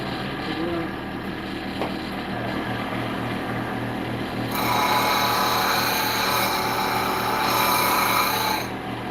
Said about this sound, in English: give me just a second to go sharpen this